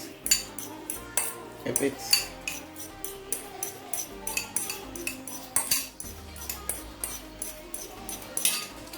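Hard-boiled egg yolk mashed in a bowl with cutlery produces a run of sharp, rhythmic clinks and scrapes of metal against the dish, about two per second, with a few brief spoken words.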